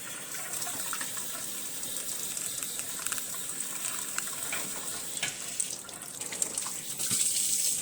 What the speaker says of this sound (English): Now I'm just going to rinse the body of the horn, letting some water run down the bell.